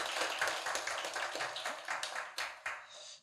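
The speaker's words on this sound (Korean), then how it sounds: "박수 한번 해주시기 바랍니다" A church congregation claps together in a quick, dense burst of hand claps that tapers into a few scattered final claps, close and fairly loud indoors.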